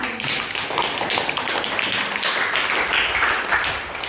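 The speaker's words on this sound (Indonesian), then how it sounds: "Kita beri applause dulu dulu buat kita semua." A class applauds together, a steady, dense wash of many hands clapping at even loudness throughout, close and without pause, no voices over it.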